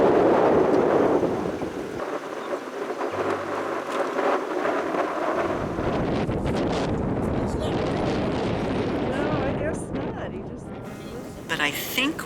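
Strong wind buffets the microphone at a reservoir during a trout fishing outing, a loud roaring rumble that swells and eases, with voices talking through and under the gusts.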